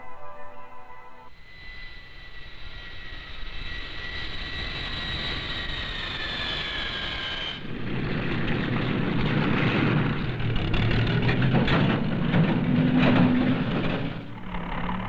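Aircraft engines at a modern airport, first a rising whining jet tone that holds for several seconds, then a louder, rougher rumbling roar that swells and fades, heard from outdoors with no voices.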